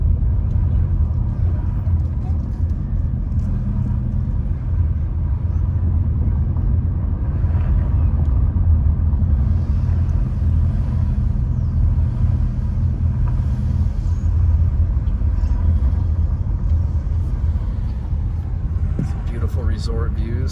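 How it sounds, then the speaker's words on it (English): Road traffic rolling by in a lake valley, a continuous low rumble of car engines and tyres that swells slightly and stays loud and close for the whole stretch. "there's a lot of traffic on this road"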